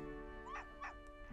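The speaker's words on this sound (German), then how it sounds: "der dumme Köter, ey." A dog in the Professor Layton vs. Phoenix Wright video game gives two short, quiet yips over a steady game music background.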